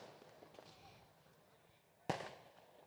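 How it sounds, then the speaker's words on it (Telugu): A firecracker bursts at a Telugu film pre-release event, giving one sharp, loud bang that stands out above a faint, steady crowd murmur. Quieter crackles sound beforehand. "ఈ టపాకాయలు ఇప్పుడు ఆగేలాగా లేవు."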